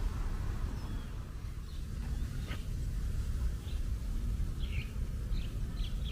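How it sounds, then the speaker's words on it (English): Birds tweet overhead in a Bangkok park, a few faint high chirps scattered over steady low city rumble and background noise. "I know you hear those birds up there tweeting away."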